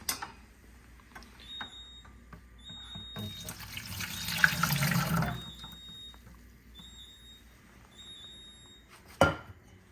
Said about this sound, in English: We're going to pour the sugar in first.